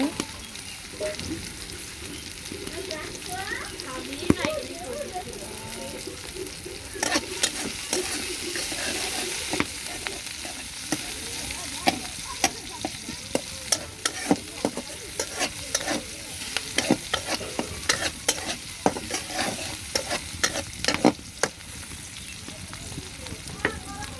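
Food, onion, green chili and garlic, stirred in a frying pan, with an ongoing sizzle broken by frequent scraping and clacking of a utensil against the pan, close and fairly quiet.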